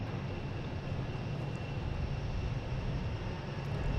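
A landing airliner at Boston Logan International Airport on runway 4 Left gives a steady, broad engine roar, moderately distant and unchanging throughout, with no talk.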